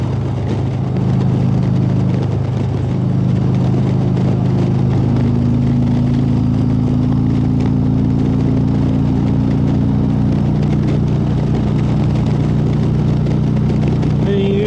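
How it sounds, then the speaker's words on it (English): A car passes a moving motorcycle on the road, its whirring engine and tyre noise blending with the bike's steady mid-pitched engine drone and rushing wind throughout. "Cars like the one that just passed."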